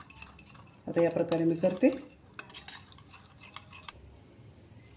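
A whisk stirs curd in a bowl, giving a quick burst of clinking, scraping strokes for about a second, followed by lighter taps while someone speaks.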